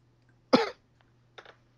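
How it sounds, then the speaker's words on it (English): A single short, gruff cough sounds up close, followed by a softer little throat noise a moment later in an otherwise quiet room. "Manly cough."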